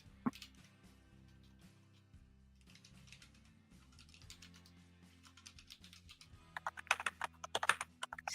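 Computer keyboard typing, a quiet run of small clicks and taps that grows busier and louder toward the end, heard close with a low background hum and no talk.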